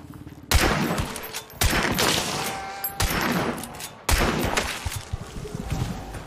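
Gunshots from the Hunt: Showdown video game, four heavy booming reports spaced about a second apart, each leaving a long ringing tail. The shots are loud and near, and no voices can be heard.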